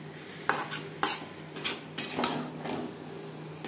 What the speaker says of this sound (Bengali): আলুর সাথে গরম মশলা পাউডার বেশ ভালো করে মিক্স করে দেবো।